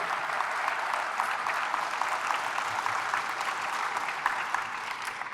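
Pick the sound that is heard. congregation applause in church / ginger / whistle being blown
congregation applause in church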